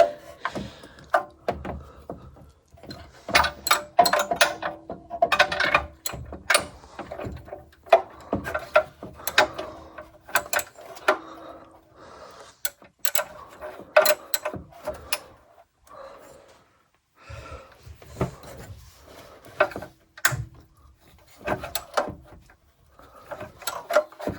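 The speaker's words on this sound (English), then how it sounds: "It's undoing it, it's a bit tricky." A ratchet fitted with an extension loosens a bolt on the EGR pipe of a Fiat 500 Hybrid in a cramped engine bay, giving bursts of close, rapid clicking and metallic scraping with short pauses between them.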